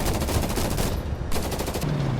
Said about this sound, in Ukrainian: Можна стріляти одночасно з двох зброй, і з кулемета, і з гармати